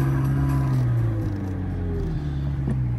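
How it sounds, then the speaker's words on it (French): A McLaren MP4-12C sports car fires up, its engine settling into a loud, deep, steady rumble with strong low harmonics, heard up close with no talking. "La voiture démarre."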